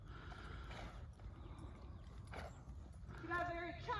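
A horse lopes with a muffled, uneven, choppy drum of hoofbeats, and a faint voice rises near the end.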